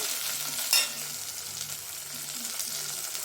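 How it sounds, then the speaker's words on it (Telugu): Ginger garlic paste sizzling in a hot pan, a continuous close frying hiss with one sharp scrape of a spoon early on and faint low hum underneath, no voices. "2 స్పూన్స్ వరకు అల్లం వెల్లుల్లి పేస్ట్ యాడ్ చేసుకోండి. పచ్చి వాసన పోయే వరకు ఫ్రై చేసుకోవాలి"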